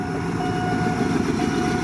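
A train rumbles past a level crossing at Yommarat in Bangkok, Thailand, continuously, with a dense clattering roar and a faint steady tone riding above it.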